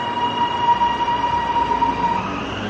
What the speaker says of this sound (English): now at the new Hallam Railway Station. Up Dandenong to Pakenham Line.